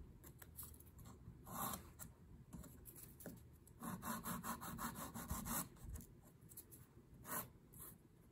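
Natural fingernails are filed and rounded off at a nail salon: quiet, rhythmic rasping strokes of a file, in short bursts of back-and-forth scraping close by, with no talking.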